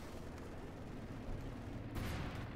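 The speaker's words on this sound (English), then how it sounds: "Ooh, artillery called in there." A Company of Heroes 2 artillery barrage rumbles as a dense low roar, with a sharper impact swell late on, at a distance and fairly muffled, with no voices over it.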